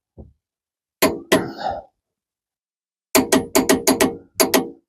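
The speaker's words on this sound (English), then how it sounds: "And now I wrench the heck out of this nut." Sharp metallic clanks from a wrench torquing a nut on a Cummins engine head, one isolated knock then two, then a rapid burst of five and a final pair, close and loud with no talk.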